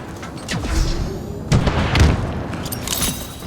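A dynamo grenade goes off in Halo Infinite's campaign, giving several sharp booming bursts and thuds spread over a few seconds, close and loud amid other combat noise.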